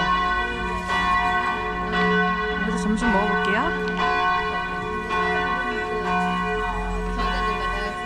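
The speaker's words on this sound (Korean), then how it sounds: "지금 12시라서 종이 울리고 있어요" Church bells ringing at noon in Salzburg, a steady sustained peal of layered bell tones throughout, fairly loud and slightly distant, with a person speaking briefly over them.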